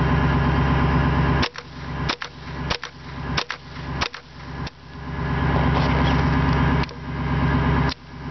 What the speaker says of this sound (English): second mag with the Henry Survival Rifle.